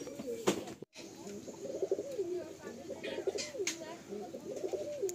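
Madras pigeons cooing in a loft during a pigeon sale in Baruipur, a continuous stream of close, rolling coos with brief chirps, and someone speaking over them.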